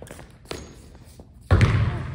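Basketball shot and bounce in a 1v1 game played to 21: a few soft thumps and taps, then a louder, heavier thud followed by rumbling court noise.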